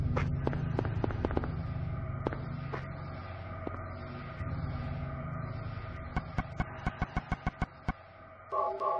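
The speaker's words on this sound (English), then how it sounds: "Once you collect both of the medallions, these intense, booming drums will tower over them menacingly." Booming drums from Silent Hill game music, heavy irregular low thuds that quicken into a rapid run of sharp hits near the end, sounding fairly distant and quiet.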